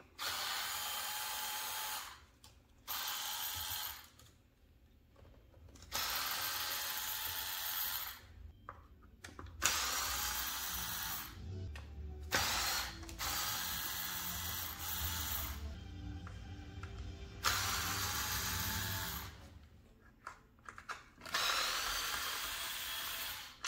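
A power driver backs screws out of the bumper of a Traxxas X-Maxx RC truck, whirring in about eight separate bursts of a few seconds each, broken by short quiet pauses.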